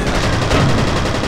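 Submachine gun fire in the shooter game F.E.A.R., one dense, loud, continuous burst of rapid shots filling the whole moment, with no speech.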